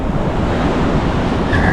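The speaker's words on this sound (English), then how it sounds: "sneaker waves will build up out in the ocean there, and then they'll roll in" Ocean surf rolling onto a beach at Samoa, California, during a rare negative tide, a continuous loud wash of breaking waves with gusty wind buffeting the microphone.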